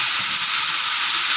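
Fish being added to fried masala for a fish curry and stirred, a steady bright sizzle with soft stirring, close and continuous.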